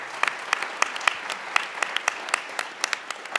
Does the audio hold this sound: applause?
yes